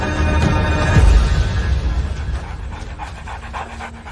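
African wild dogs pant after chasing an impala, a close run of quick rough breaths that fades slightly as it goes, with no talking.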